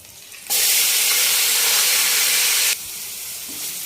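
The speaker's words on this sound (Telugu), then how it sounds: "తర్వాత ఉల్లిపాయ పేస్ట్ వేసుకుందాం." Onion paste dropped into a hot pan of oil with a bay leaf for a mushroom gravy curry: a sudden loud, close hiss that holds for about two seconds, then eases to a softer continuing sizzle.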